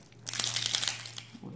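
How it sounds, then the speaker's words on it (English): Dry, papery onion skin crinkles and crackles up close as it is peeled away, a short burst of about one second followed by a brief faint rustle. "then remove the skin from your onion"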